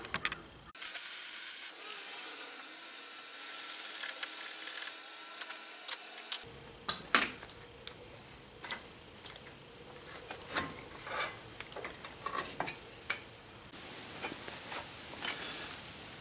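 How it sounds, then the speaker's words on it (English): A bead is welded on a steel circle bending jig: a steady buzzing arc runs for about five seconds, then cuts off and gives way to scattered metallic clicks and handling noises. "Alright, so there's the other side welded on."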